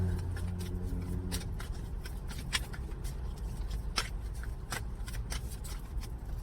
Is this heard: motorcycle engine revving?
no